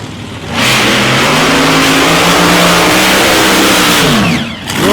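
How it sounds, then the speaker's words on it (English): A supercharged Plymouth drag racing car's engine, driven by Mike Evans at the South Coast Nationals, rumbles up to a loud, sustained roar at close range, holds for several seconds, then drops away. "Mike Evans' car, you can hear that car just rolling over."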